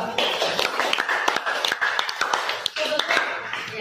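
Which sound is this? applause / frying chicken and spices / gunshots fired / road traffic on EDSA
applause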